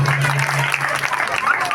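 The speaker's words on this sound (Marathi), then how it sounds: "सर्व कार्यकर्त्यांसाठी जोरदार टाळ्या झाल्या पाहिजे" A crowd applauds volunteers at an Ambabai temple festival gathering, with loud, continuous clapping and a steady hum underneath.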